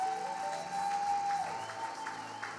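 A church congregation applauds and cheers for Jesus, a steady wash of clapping held throughout, with a sustained musical tone underneath.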